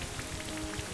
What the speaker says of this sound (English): Yeah, so there's the Rain Dance.